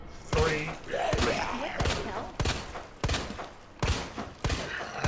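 Gunfire from the video game Resident Evil 2 cracks out in about six loud, evenly spaced shots over a few seconds, each a sharp burst with a short decaying tail, beneath faint game ambience.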